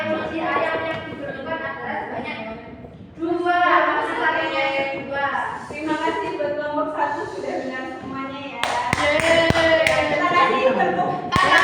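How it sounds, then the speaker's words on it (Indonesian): Students in a classroom break into applause near the end, a dense patter of clapping rising over ongoing voices and chatter. "tepuk tangan"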